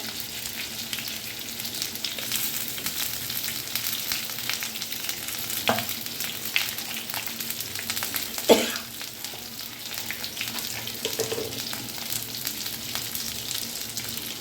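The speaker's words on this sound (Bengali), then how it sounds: "আমগুলো দিয়ে দেবো। আমগুলো ভাজা হয়ে যাবে।" Mango pieces sizzle steadily in hot oil for a sweet mango dal, with a continuous frying hiss and occasional spatula scrapes and taps against the pan.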